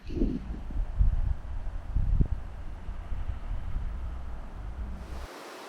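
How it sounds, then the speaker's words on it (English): A gushing waterfall by a campsite in Frenchman Coulee, a steep-walled canyon, gives a low, steady rushing roar with gusts of wind buffeting the microphone, before the sound cuts off abruptly near the end. "There's a waterfall right behind me."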